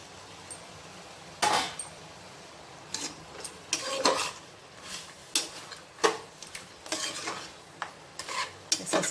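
Mutton curry with tomato pieces being stirred in a pot, giving repeated scraping and clinking strokes of a spoon against metal at an irregular rhythm, close and fairly clear with a faint sizzle underneath and no talking.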